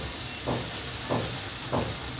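Turmeric, chili and coriander powders stirred and fried in a pan give a steady, close hiss. Three soft, evenly spaced scraping swishes rise over it, with no talking.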